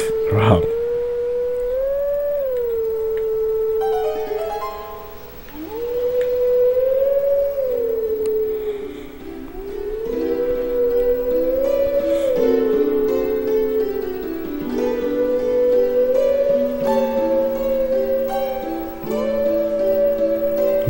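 In The Legend of Zelda: Twilight Princess HD, a wolf howls the melody of Zelda's Lullaby in long, wavering, siren-like notes, joined by layered backing tones and repeating the tune over the whole stretch.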